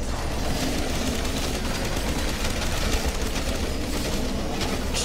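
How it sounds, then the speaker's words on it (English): Dense, sustained gunfire from Black Ops 3 Zombies on the Origins map, a loud continuous barrage with no clear gaps, filling the whole stretch with no talking. "Start shooting at him."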